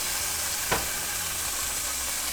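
Chicken pieces frying in an oiled pan give a steady, close sizzle and hiss, with a brief clatter near the start as the food goes in or is stirred.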